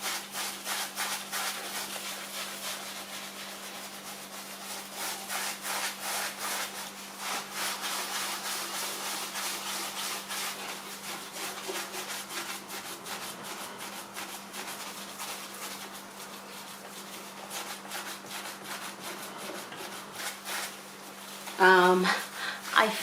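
A Scrub Mummy sponge scrubs an oven door with steady, continuous rubbing strokes that go on for over twenty seconds at close range, joined by a faint hum and some quiet talk.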